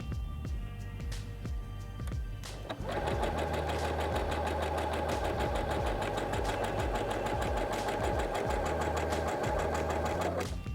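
A Singer Heavy Duty HD6805C sewing machine set to a narrow stitch width stays quiet briefly, then runs in one fast, steady, close mechanical whir of stitching for about eight seconds, alone.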